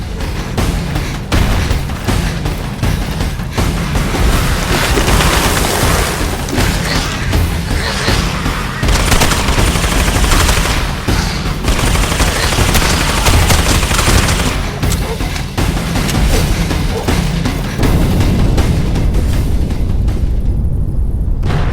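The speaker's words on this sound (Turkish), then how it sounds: "Bomba patladı." Dense, continuous gunfire and booming bomb blasts from the video game Hounds: The Last Hope fill the whole stretch, a loud chaotic battle of rapid shots and explosions with no pauses.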